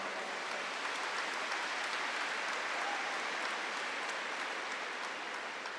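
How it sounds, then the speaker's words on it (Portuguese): A church congregation applauds steadily and continuously, a dense even wash of many hands clapping at moderate loudness with no pauses or speech over it. "Pode aplaudir."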